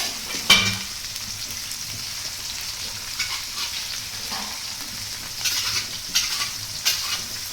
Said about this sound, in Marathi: मस्त असं फ्राय करून घेतोय.